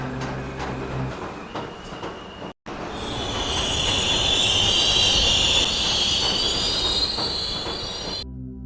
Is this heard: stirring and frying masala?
no